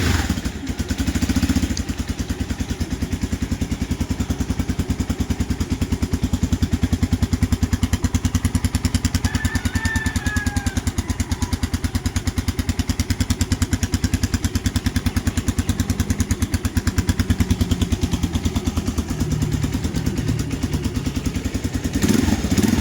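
A 2025 RUSI KR-200 motorcycle engine starts and settles into a steady, loud, close-up running chug with a rough mechanical clatter, holding evenly for the whole stretch with no talk.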